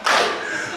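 An audience at an outdoor special-stage gakseori street-performer show in Suanbo bursts into a short round of clapping, a loud, close flurry of hands that fades within a second.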